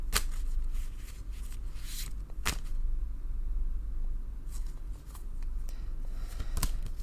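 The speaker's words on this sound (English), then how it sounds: "Shuffle until Spirit asks me to stop" Thoth tarot cards shuffled by hand: a steady papery riffling with occasional sharper slaps and flicks, close and continuous over several seconds, no talk.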